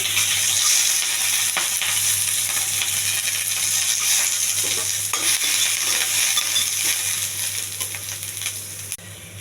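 Cumin, curry leaves and chopped onion frying in oil, a loud close sizzle with scraping stir strokes throughout, easing slightly near the end and without talk.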